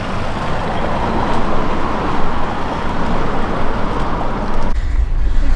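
A city bus pulls up amid loud, dense street traffic in Ukraine, a continuous broad rumble of engines and road noise with a brief break near the end.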